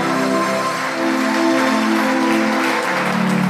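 Congregation in a Spanish-language church service breaking into sustained applause, a dense wash of clapping that holds steady and close for several seconds, with a faint tonal backing beneath it.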